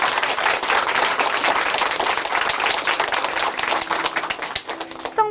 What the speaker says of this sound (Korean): 앞으로의 모습 박수로 함께 응원해드리겠습니다